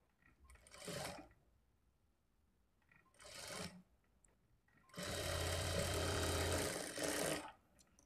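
A sewing machine stitches a lined blouse in three bursts, short at first and then a longer steady run, whirring close and fairly loud with quiet gaps in between.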